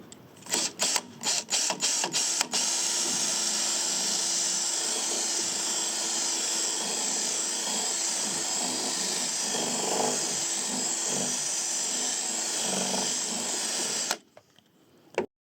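A Ryobi power drill fitted with new bits runs continuously at high speed for about twelve seconds after a few short trigger bursts, a steady close whine, then stops abruptly.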